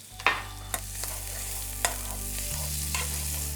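Hake pan-fries with lemon juice and chopped tarragon, chives and parsley in a single pan, giving a steady close sizzle with a few sharp ticks and clicks, and no talk.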